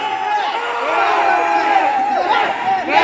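A crowd at a pop-culture convention in a mall yells and cheers in a sustained roar of overlapping voices, loud and close, swelling slightly toward the end.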